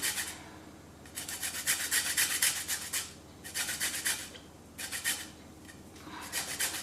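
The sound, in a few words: zesting the outer peel of a citrus fruit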